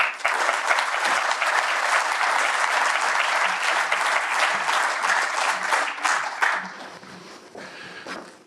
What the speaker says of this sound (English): please give a big round of applause to Kate Nicholls